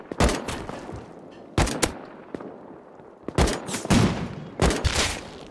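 Gunshots in the video game Rust, sharp loud reports arriving in quick clusters and bursts with short gaps between them, no voices over the shooting.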